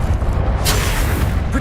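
Spell blasts from Confringo and Incendio going off in Hogwarts Legacy, played on PS5: a dense, loud rumble of booming magical impacts that runs the whole way through, with a brighter crackling burst in the middle.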